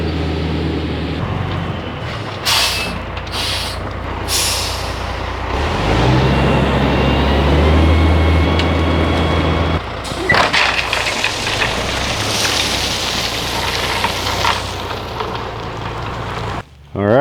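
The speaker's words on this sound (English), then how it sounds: "I think I hear a dump truck coming down the road." A dump truck carrying a load of gravel rolls down a road toward a new driveway site, its heavy engine rumble and road noise rising steadily and staying loud, with scattered clanks and a brief burst of rattling near the end.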